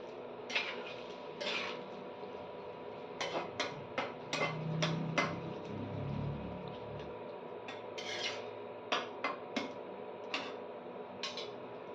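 Bottle gourd and prawn curry being stirred in a pan, with scattered spoon taps and scrapes at an irregular rhythm close by, over a soft steady background.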